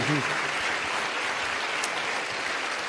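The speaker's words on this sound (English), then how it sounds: "Give a round of applause to your team." An audience applauds at a Sadhguru event in Azerbaijan, a dense, steady wash of clapping from a large crowd, loud and sustained with a brief voice at the start.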